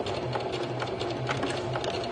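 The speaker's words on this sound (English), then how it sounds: "lower our needle, do a small back stitch" A sewing machine stitching fabric makes a brief run of quick, even needle strokes, close and moderately quiet, with no talk over it.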